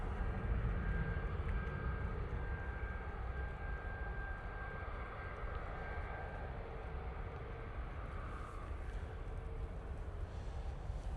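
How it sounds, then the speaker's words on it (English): A TUI Boeing 787-9 Dreamliner takes off from Manchester Airport, a steady, moderately distant jet roar with a faint whining tone, sustained without talk. "this TUI, using the 787-9 Dreamliner, is off to Punta Cana"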